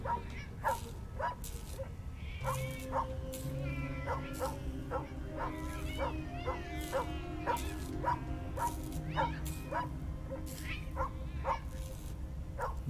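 A dog barks repeatedly in the video game Tales of the Neon Sea, a string of sharp evenly spaced yaps over quiet background game music.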